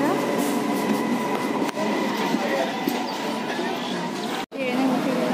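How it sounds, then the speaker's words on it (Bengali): A train pulls into a station with a steady, loud rolling rumble and rattle that lasts throughout, faint voices in the background and a brief dropout near the end. "ট্রেন ঢুকছে, ট্রেনে উঠবো আমরা।"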